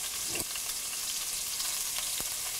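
Crushed shallots, garlic and curry leaves frying in a pan, giving a continuous bright sizzle close by, with a couple of brief scraping stirs standing out; no one speaks.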